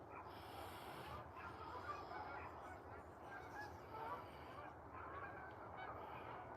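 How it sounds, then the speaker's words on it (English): A flock of about 40 geese honks repeatedly in the distance over a steady windy outdoor hiss, their calls faint and overlapping as they fly over toward a wetland. "must be about a flock of about 40 geese going over to that other wetland"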